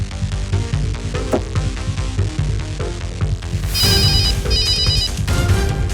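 A mobile phone ringtone chimes in a repeating electronic pattern over loud dramatic background music, two bursts in quick succession.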